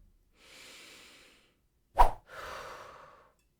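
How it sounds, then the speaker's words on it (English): A deep breath taken close to the microphone: a soft inhale, a sharp puffing burst, then a long, steady exhale, with no talking. "let's take a deep breath together"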